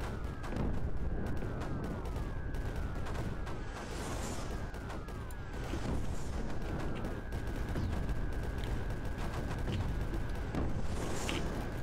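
Mortars and cannons firing in the video game Creeper World 4, a busy barrage of repeated booming shots and launch whistles, steady and loud for the whole stretch, with no voice over it.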